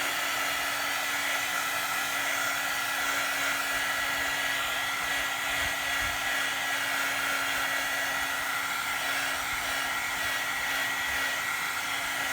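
A hair dryer runs continuously at close range to dry a paper junk journal tag, an even, loud airy whir with a faint motor hum and no speech.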